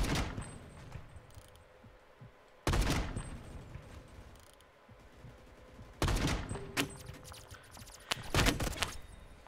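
Gunfire in the online shooter Phantom Forces: three loud bursts of rapid shots, separated by quieter stretches of game background.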